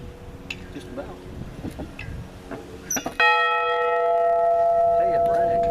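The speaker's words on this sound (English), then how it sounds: "Hey, it rang." A bell rings out once at the Florida Pioneer Settlement in Barberville, Florida, a bright strike that hangs in a long, sustained ringing tone after a stretch of people chatting nearby.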